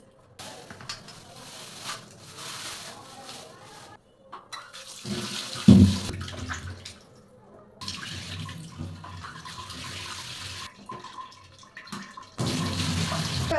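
Running water splashes over raw meat being rinsed, in bursts that stop and start several times, with a louder gush near the end; no voices.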